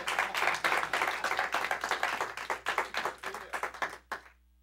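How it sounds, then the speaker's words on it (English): A congregation at a church worship service claps hands in a steady, rhythmic beat for several seconds, close and lively, ending abruptly with a final clap. "Clap your hands."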